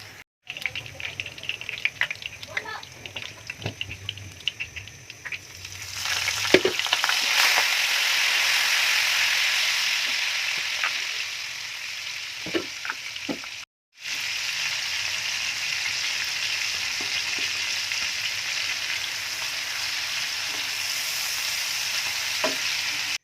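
Onion tadka frying in hot oil for kadhi: a steady, loud sizzle with occasional stirring clinks and scrapes, starting quietly, then surging into a strong continuous hiss after a brief cut.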